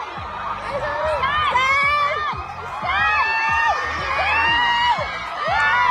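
A large crowd at a fan event screams and cheers in loud, overlapping high-pitched shouts and whoops, rising in waves, with rhythmic thumping beneath.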